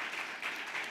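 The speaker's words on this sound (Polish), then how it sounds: "mega oklaski" An event audience at a Lublin workshop on church and democracy claps in a brief burst of applause. The dense, even wash of clapping is moderately distant and faint, with no voices over it.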